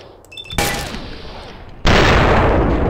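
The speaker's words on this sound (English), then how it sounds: "here come the bullets" Enemy gunfire in Fallout 3 during an Enclave ambush: a burst of shots starts partway in, then a louder sustained rattle of fire lasts to the end, close and dense.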